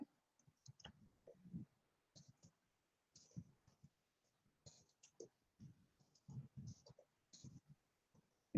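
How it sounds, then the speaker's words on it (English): Light clicking taps on a keyboard in short irregular bursts with pauses between, close by and fairly quiet, with no talking. "Just typing it out."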